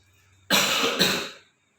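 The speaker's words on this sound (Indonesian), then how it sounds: "Ini maaf saya lagi sakit, lagi batuk" A man with a cold gives a close, harsh cough in two quick bursts, then silence, with no talk around it.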